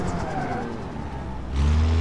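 A nitrous-equipped drag racing car in the BeamNG.drive driving game runs with a low engine drone that swells into a louder, deeper roar near the end, with a voice talking over it.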